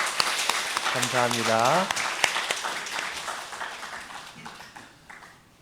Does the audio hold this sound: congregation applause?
yes